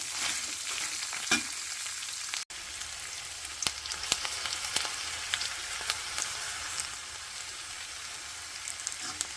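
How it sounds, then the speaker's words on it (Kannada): Steady crackling sizzle of chillies frying in hot oil for fenugreek chutney, with scattered pops and a brief sharp click partway through. "ಎಣ್ಣೆಯಲ್ಲಿ ಇದೆಲ್ಲ ಫ್ರೈ ಆಗಿದೆ"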